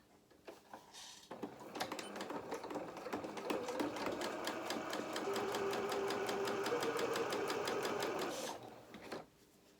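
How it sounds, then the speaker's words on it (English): A sewing machine runs a long top-stitching seam on beginner-style trousers, starting with a few slow stitches, then holding a fast, steady rhythmic whir for several seconds before stopping, close up with no talking. "I'm going to do the other bit of top stitching down this side here."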